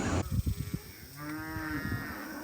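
Mashona cattle low outdoors: a sustained, fairly loud moo swells and holds for over a second after a few brief grunting pulses, with steady wind or ambient noise underneath and no talk.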